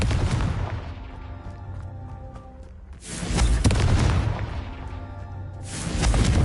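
Repeated Confringo fire spell blasts in the video game Hogwarts Legacy on PS5: two loud, booming explosive bursts about three seconds apart, each with a broad rushing roar, over a steady background of game ambience.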